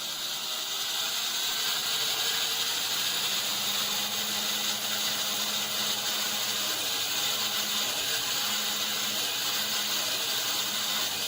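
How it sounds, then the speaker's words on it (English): A sawmill cutting a big piece of wood in a video game, heard as a continuous loud mechanical grinding and rattling whir with steady cyclic knocking, no talking. "it's working, and I'm getting this big piece of wood cut"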